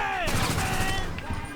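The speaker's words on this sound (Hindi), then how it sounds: "उसके तो दरवाजे के आर पार गोलियां मार के मैंने उसे ख़त्म कर दिया" A short burst of rapid automatic gunfire from a gunfight in the video game GTA 5, loud and close, with a voice faintly audible underneath.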